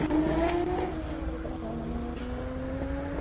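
A Nissan race car at a hillclimb holds a steady engine drone with rising harmonic lines as it pulls away from the start, loud and continuous with some crowd or commentary noise mixed in.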